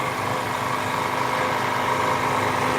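A vehicle engine idles steadily in a parking lot. A constant low hum and rumble holds an even level throughout, with no voices.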